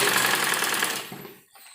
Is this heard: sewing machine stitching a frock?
yes